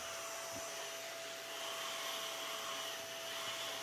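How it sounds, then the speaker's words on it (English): A vacuum cleaner runs with a steady, unbroken whine and hiss while sucking baking soda off a wooden nightstand being refinished, close and continuous with no talk. "And then I just come back with a vacuum and vacuum up all that baking soda."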